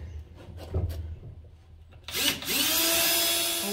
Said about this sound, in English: I'm just gonna go ahead and use the step bit and get it drilled out.